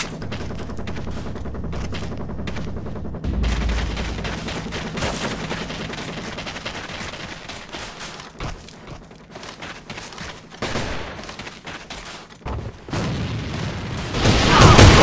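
A breaching charge detonates with a deep boom amid heavy, continuous gunfire in a tactical shooter game, dense automatic fire rolling throughout and swelling louder at the end.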